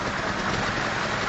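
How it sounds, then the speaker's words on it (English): A Ford Model T engine, hand-cranked with the key on magneto, runs with a steady, dense broadband rumble at close range, no voices heard. "And go off. The engine starts."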